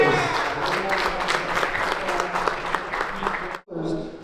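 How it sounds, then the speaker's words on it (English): Loud, sustained applause from a crowd at a fiber arts competition awards, dense clapping throughout, cutting off briefly near the end as a voice begins. "one more round of applause"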